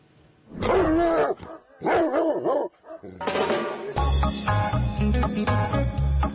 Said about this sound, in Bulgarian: Димитър Трифонов развива хотела си за кучета от 2004 година